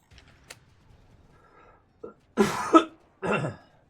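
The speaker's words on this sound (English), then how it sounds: "I'm so sorry for all of the coughing and grossness." Several harsh coughs and throat-clearing bursts from one person close to the mic, two loud clustered coughs followed by a third after a short pause, with faint clicks and near-silence between them.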